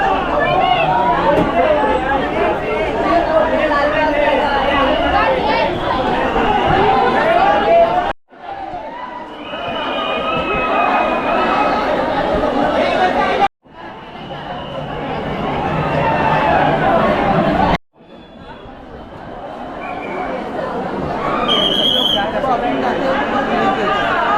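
A busy crowd at Lalbaugcha Raja in Mumbai after the last train arrives chatters and bustles, many overlapping voices in a loud murmur with a few abrupt breaks, close and continuous.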